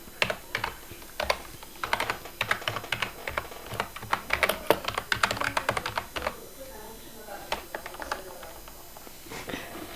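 A Gaming Keyboard KG315 being typed on up close, with irregular bursts of crisp key clicks and quicker runs of keystrokes, some louder taps standing out, over faint room noise.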